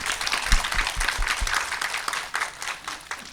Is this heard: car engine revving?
no